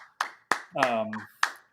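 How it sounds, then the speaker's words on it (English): Five or six separate, sharp hand claps ring out close and loud at uneven intervals, with a person's voice briefly heard between them. "Everybody applaud"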